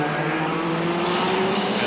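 BMW M3 touring cars at a 1990 British Touring Car Championship race roar past in a loud, steady, close engine drone that rises slightly in pitch.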